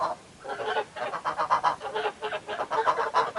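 Domestic geese on a UK smallholding honk loudly and repeatedly in a close, overlapping chorus of rhythmic calls, with no talking.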